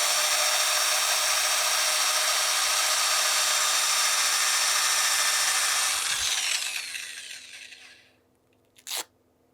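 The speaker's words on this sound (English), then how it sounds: "Reverse my drill for the other side, for the bottom." A power drill running in reverse drives 180-grit sandpaper against a wooden bowl, a steady whirring grind that runs for about six seconds, then winds down and stops, followed by a brief clack.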